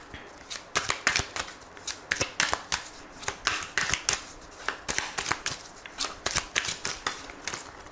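Tarot cards are shuffled close by in fast, crisp riffling bursts, clustered flutters and soft snaps repeating steadily with no voices over them.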